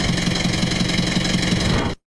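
A car engine runs at a steady idle, loud and continuous with a low rumble and faint knocking texture, then cuts off abruptly near the end; no voices.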